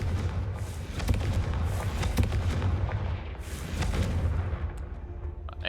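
Confringo fire spell blasts in a Hogwarts wizarding video game, a dense run of booming thuds and crackling bursts over a low rumbling background, loud and continuous.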